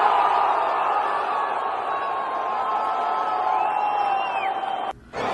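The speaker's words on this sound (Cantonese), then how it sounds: "歡呼聲仲因為突尼西亞隊嘅射失" Stadium crowd at a World Cup match between Sweden and Tunisia in Mexico roars steadily from a distance after a missed Tunisian shot, with whistles and a swelling cheer, then a brief cutout near the end.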